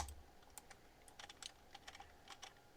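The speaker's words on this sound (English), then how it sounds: "type in the name as floor" Quiet, irregular clicking of keys on a computer keyboard as a name is typed in, a close run of light taps with short pauses and no voices.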